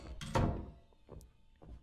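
A door shuts with a heavy wooden thunk in the Japanese horror game Home Sweet Home, set in a house, followed by a few fainter knocks and bumps in a quiet room.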